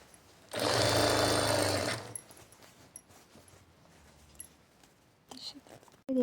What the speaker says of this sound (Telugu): ఇక్కడ నుంచి ఇలా మళ్ళీ లైనింగ్ అనేది స్టిచ్చింగ్ చేసుకోవాలి.